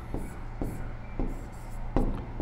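Marker or chalk writing on a board in a classroom, short scratchy strokes repeating every half second or so, close and fairly loud over a low steady hum, with no speech.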